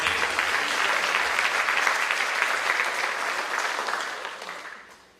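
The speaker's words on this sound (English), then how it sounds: "let's clap for" A town hall audience claps together in a sustained burst of applause that holds evenly, then thins and fades away near the end.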